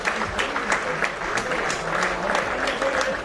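Crowd applause for the referee and his assistants at a cup final between Fraserburgh United and Hall Russell United, steady sustained clapping filling the whole stretch at moderate distance.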